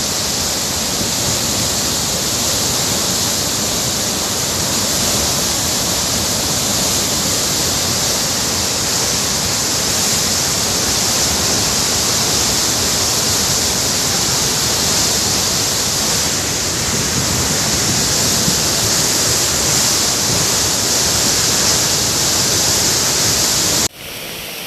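Swollen Kaliunde river running high in flood during extreme weather, a loud, steady roar of rushing water that holds unbroken for the whole stretch, with no voices over it.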